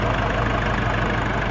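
A Nissan Navara pickup's 2.5 turbo diesel engine idles smoothly and steadily, a close, even rumble with no talk over it.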